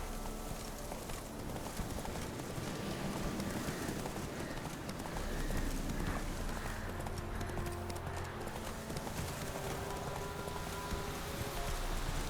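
Horse hooves clip-clop in a steady walking rhythm in The Witcher 3, a moderately close and even beat over a soft wash of ambient game sound and faint rain-like texture.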